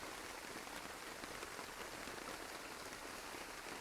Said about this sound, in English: that rain is heavy